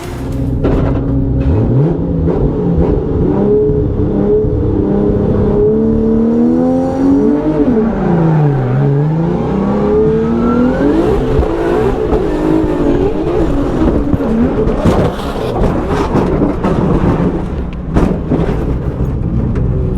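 A Formula Drift car, a BMW E36, revs hard on track, its engine loud and close, rising and falling in pitch through sustained throttle with tyre roar filling the whole stretch.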